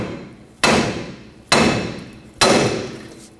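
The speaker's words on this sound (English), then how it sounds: "Hammer the side of the knuckle." Three heavy metallic hammer blows at even intervals on the steering knuckle of a 1995-2004 Toyota Tacoma, each ringing out and decaying before the next strike.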